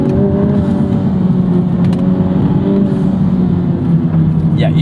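A 2021 Honda Civic Type R Limited Edition (FK8), front-wheel drive, hums with a steady engine drone from inside the cabin during spirited driving, with a faint turbo whir on top and no clear revving peaks.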